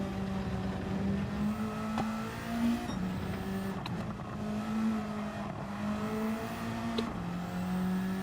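A Mazda MX-5 Cup race car engine in Gran Turismo 7 drones steadily at high revs, its pitch rising and dipping with gear changes and a few brief sharper accents, loud and continuous with no talk.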